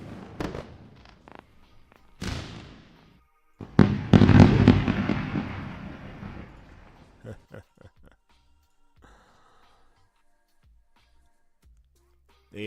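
Fireworks sound effect: a few sharp bangs followed by a loud burst and crackling that fades into scattered pops, with speech also present.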